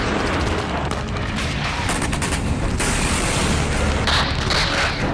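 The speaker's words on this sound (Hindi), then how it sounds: "यूक्रेन के टॉर्स्की लेज इलाके में थर्मोबैरिक धमाके से भारी तबाही हुई" Thermobaric bomb explosions in the Ukraine war, heard as a dense, continuous wall of booming and crackling blasts with no pauses, loud and distorted.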